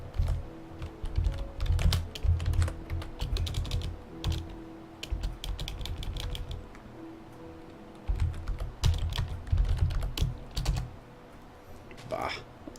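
Rapid computer keyboard typing during a Minecraft modpack play session, with bursts of clicking keystrokes that pause and resume, sitting under and between a man's speech.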